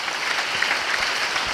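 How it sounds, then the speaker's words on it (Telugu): A church congregation at a Christmas service claps loudly in a dense, steady burst of applause, with no talk over it. "చప్పట్లు కొడదాం గట్టిగా"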